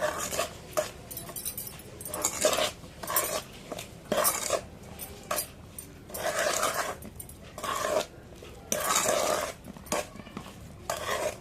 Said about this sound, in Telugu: ఆవాలు పొడి, 100 గ్రాముల ఉప్పు, ఇదంతా మిక్స్ చేసుకోవాలి